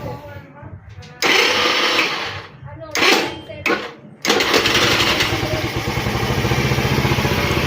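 A Kawasaki K-Blade scooter's push-start button cranks the engine in a few short bursts. The engine then catches and settles into a steady, close, buzzing idle. There is no talk.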